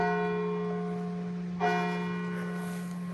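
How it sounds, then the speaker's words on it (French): A church bell rings at night near an abandoned hospital, its long humming tone decaying before a fresh strike midway renews the ringing, clear and fairly close, with no talking. "Les bruits de cloche, c'est pas mon truc du tout."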